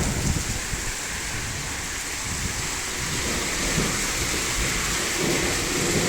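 Heavy rain pours steadily outdoors in the German countryside, with low rumbles of thunder rolling underneath, a dense continuous wash of sound with no voices.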